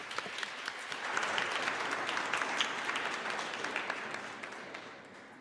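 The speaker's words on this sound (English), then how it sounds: "Another round of applause," Audience applause at a human rights conference on girls and women, a steady dense wash of many hands clapping that swells and slowly fades, heard from a distance.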